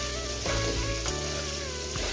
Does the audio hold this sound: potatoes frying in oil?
yes